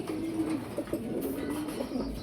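Fancy pigeons coo steadily at a pigeon sale, the low throaty calls close and continuous for the whole stretch, with no talk over them.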